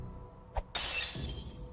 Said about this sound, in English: violently smashing the arm on the ground